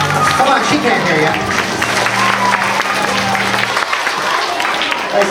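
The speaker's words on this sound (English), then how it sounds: "give Lisa a round of applause for helping me out" A live show audience applauds for Lisa, steady crowd clapping mixed with a low humming tone and voices underneath.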